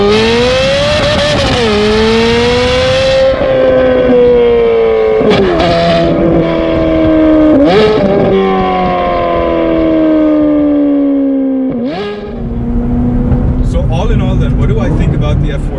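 A Ferrari F430 Spider engine is revved hard toward 7,000 rpm in repeated loud, close blips, with rising and falling wails between throttle stabs.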